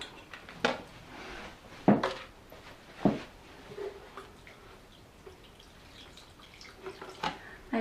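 Water drips and trickles through a freshly repotted begonia's pot, a few distinct close drops and splashes scattered over a quiet, faintly running background.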